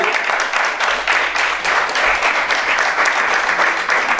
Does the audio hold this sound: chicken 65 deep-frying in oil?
no